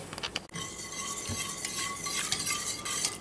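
A spoon scrapes and stirs tomato and melting cream cheese around a pan, with close, continuous scraping strokes and soft clinks and no voices.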